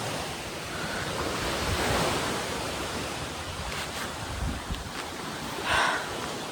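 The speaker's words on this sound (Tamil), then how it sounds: "இந்த வேவ்ஸ்லாம் இங்கே வருதுல்ல" Steady ocean surf washing onto a shore, a broad continuous rush with gentle swells, mixed with some wind noise on the microphone.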